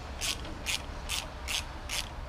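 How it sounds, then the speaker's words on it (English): A ratchet with a 9/16 deep socket backs out stud bolts during a motor mount install on a B-series engine, ticking in five evenly spaced, close, quiet clicks with no talk. "I used a 9/16 deep socket to get the stud bolts out"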